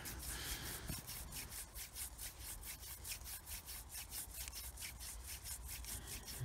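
A wooden hand drill fire spindle is twisted back and forth against wood, producing rapid rhythmic rubbing strokes, close but faint, with no talking.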